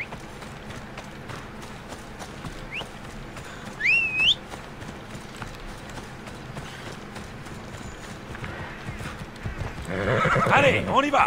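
In Assassin's Creed Odyssey, a horse whinnies loudly midway, then hooves clip-clop and break into a gallop toward the end, with someone talking over the game sounds.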